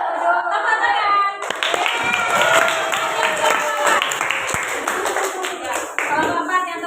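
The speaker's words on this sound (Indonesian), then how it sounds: "Tepuk tangan." A class of fifth-grade schoolchildren claps their hands together, a busy burst of overlapping claps that starts after a moment of chatter, with young voices calling out and talking over it throughout.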